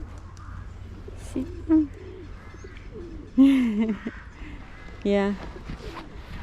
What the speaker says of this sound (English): Look how many pigeons.